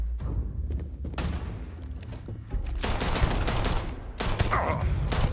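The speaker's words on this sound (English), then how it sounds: "I just kind of shot him in the back of the head a little bit" Gunfire in Starfield, with heavy thuds and scattered shots early on, then dense rapid bursts of automatic fire from about the midpoint, loud and close, with no talking.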